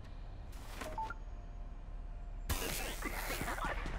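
Phone being hacked in Payday 3, giving off a quick series of electronic dialing tones, then a louder burst of busy noise, close and clear with no talking.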